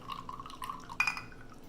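Soy sauce poured into a marinade of fresh ingredients for a London broil: a quiet, brief liquid splash and trickle with a small bright spatter partway through, close and faint.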